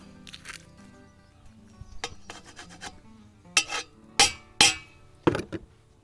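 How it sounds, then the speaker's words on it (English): Unpeeled garlic cloves are squashed through a garlic press, producing close, sharp crunching and scraping bursts with a few clicks of the metal handles, getting louder toward the end. "I just put it straight through the press. It all squashes through"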